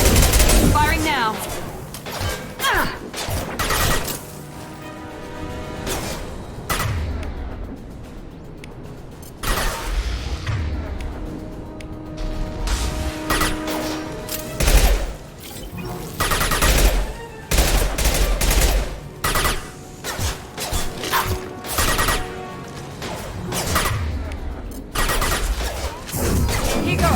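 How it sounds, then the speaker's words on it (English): Gunfire and clanking mechanical effects from Mass Effect 2 Legendary Edition, coming in repeated loud bursts and volleys with short lulls between, mixed with game music and speech. "Firing now."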